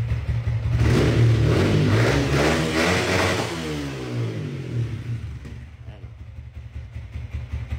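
A stock car engine with stock ECU and bolt-on parts revs hard, climbing and falling in pitch, then settles toward a rough idle, close and loud.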